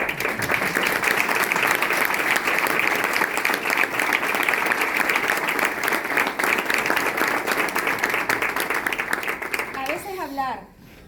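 An audience breaks into sustained, dense applause that continues steadily for several seconds before fading out at the end.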